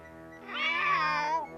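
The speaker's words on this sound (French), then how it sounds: "Mais c'est un chat." A single drawn-out cat meow rises and falls, close and clear, over a faint steady background hum.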